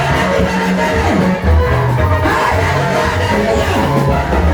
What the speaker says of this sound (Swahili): Shangwe na vigelegele na makofi mazuri kwa Yesu.